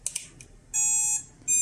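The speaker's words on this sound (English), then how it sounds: "the motor emits two long beeps" A RadioLink D460 drone motor gives a few short chirps, then two long, loud electronic beeps close by, each tone steady and high-pitched with a brief gap between them.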